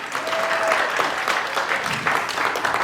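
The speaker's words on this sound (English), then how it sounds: "Give them a round of applause" Sustained audience applause fills the room at a magic show, a dense steady wash of many hands clapping throughout with no talk over it.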